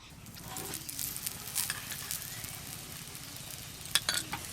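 A potato-stuffed paratha fries in oil on a clay stove, a close, continuous crackling sizzle with small pops and occasional stirring scrapes, one sharper crackle near the end.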